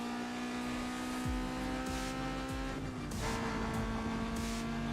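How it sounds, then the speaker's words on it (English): Car engines from the video game Need for Speed Most Wanted growl and rev steadily, with a sustained droning tone and a few sharp shifts and surges in pitch across the stretch. "the sound design of the vehicles, so like all the cars sound really aggressive"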